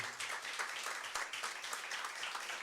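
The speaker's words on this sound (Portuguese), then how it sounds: "Eu queria uma salva de palmas para a Cíntia" Steady applause from a crowd at a public hearing, dense clapping filling the whole stretch at moderate level with no voices over it.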